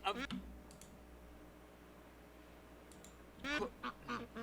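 A little duck quacks in a quick run of short nasal calls near the end, preceded by a brief burst at the start and light clicking over a quiet low hum.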